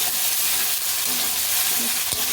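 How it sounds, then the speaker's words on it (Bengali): Turmeric spice paste sizzles and fries in hot oil while being stirred for stuffed koi fish in oil, a dense, steady crackle close up with small scraping touches from the stirring. "দিয়ে দেবো হলুদ মশলাটা কষাতেই হবে"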